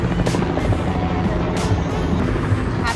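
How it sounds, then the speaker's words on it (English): A police helicopter flying over Michigan Avenue in Chicago, its rotor thumping steadily and fairly loud over street ambience, with occasional sharper noise bursts and no clear speech. "What's going on with the helicopter?"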